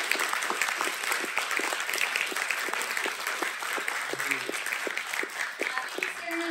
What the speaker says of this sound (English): But can we get a big round of applause for